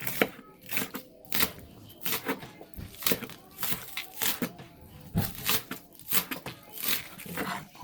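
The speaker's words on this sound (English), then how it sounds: "we're gonna cut some scallions first" Knife chopping scallions on a board for chicken soup, a quick run of sharp close taps in uneven rhythm, about two dozen cuts, with a little low background noise between strokes.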